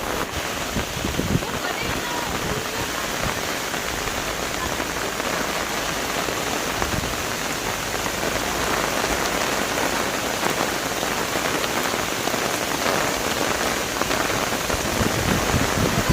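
Heavy rain pours steadily through a storm, a dense broadband hiss with gusty wind noise on the microphone, continuous and close for the whole stretch, with no talk over it.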